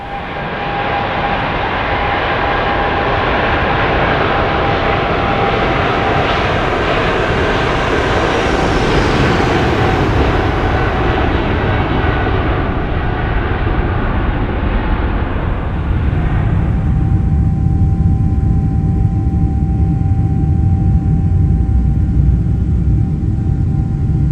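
Boeing 777 jet engines in Microsoft Flight Simulator roar loudly and continuously, a dense broadband rush that shifts to a deeper, heavier rumble about two-thirds through; no talking.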